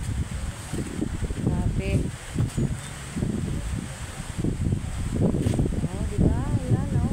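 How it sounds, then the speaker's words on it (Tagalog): Strong wind during bad weather on a coast, roaring as a steady broadband rush with low buffeting gusts against the microphone, heard beneath continuous close talking. "Lakas ng hangin."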